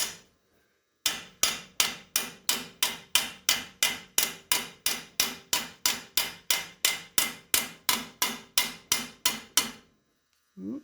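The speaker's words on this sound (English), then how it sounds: "Let's get my hammer going here." A hammer strikes rivets joining two stainless steel skillets held on a metal stake, about two dozen sharp, ringing metallic blows in a steady, even rhythm, close and loud, with brief silence before and after.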